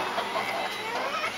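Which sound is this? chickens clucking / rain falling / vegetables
chickens clucking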